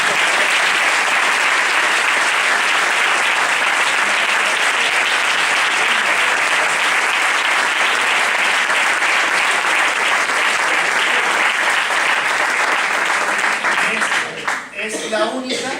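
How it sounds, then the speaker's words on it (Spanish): A round-table audience discussing Holy Week brotherhood aesthetics breaks into loud, sustained applause that fills the room for a long stretch, tapering slightly at the end with a voice emerging. "Vale, un aplauso a Paco porque es único también."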